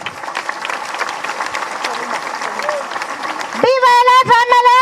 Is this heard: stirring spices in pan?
no